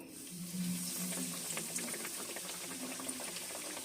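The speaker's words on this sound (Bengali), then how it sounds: "আমি ভেজে নিচ্ছি তেলে দিয়ে" Steady, soft sizzling and bubbling of bhetki fish fillets frying in oil, continuous and close, with faint low hum beneath.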